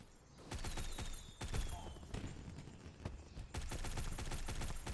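ODIN assault rifle from a shooter video game firing in rapid automatic bursts, loud and close, with short pauses between strings of shots.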